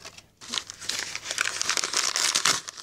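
Wrapped package being cut open, with close crinkling and tearing of wrapping material over nearly three seconds after a brief silent start, fairly loud and without talk.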